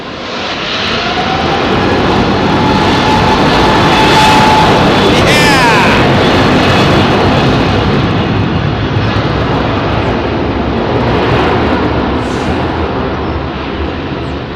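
Jet airliners departing runway 27R at London Heathrow, a loud swelling engine roar that builds and holds with a deep thumping rumble, then slowly recedes into distant drone.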